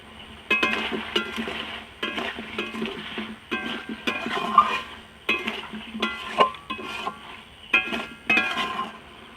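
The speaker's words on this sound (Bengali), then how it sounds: "এই মাংসটা আমি অনেকক্ষণ ধরে কষবো" Chicken curry being stirred in a metal pot at home, cooked with little oil, with repeated clinks and scrapes of the spoon against the pot in an uneven rhythm, close and moderately loud.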